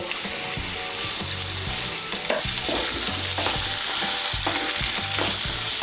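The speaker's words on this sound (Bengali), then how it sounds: "কুমড়োটাকে তেলের সঙ্গে ভালো করে মিশিয়ে নেব" Pumpkin pieces fry and sizzle in hot oil while being stirred, with repeated scraping strokes of a spatula against the pan over a steady, close crackle; no one speaks.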